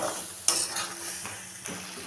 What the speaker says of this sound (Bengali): মশলা কষানোর সাথে মটরশুঁটিও খানিকটা দিয়ে দিলাম, দিয়ে আরও কিছুক্ষণ কষিয়ে নেব।